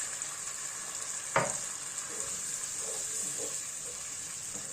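Canned tomatoes simmering with tomato paste in a pot, a soft steady bubbling and sizzle with one sharp clink of a utensil near the start and faint stirring noises after.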